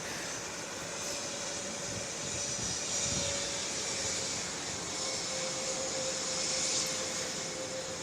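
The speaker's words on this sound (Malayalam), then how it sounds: "British എയർഫോഴ്സിൻ്റെ Z M four one seven വിമാനമാണ് എയർബസ് നിർമ്മിത വിമാനമാണിത്" A British Royal Air Force Airbus A400M military cargo aircraft, registration ZM417, gives off a steady, continuous engine roar that holds level throughout, heard from a distance with no talking.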